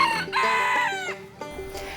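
A rooster crows loudly and close by at a farm animal sanctuary, a single drawn-out cock-a-doodle-doo with hens clucking softly around it.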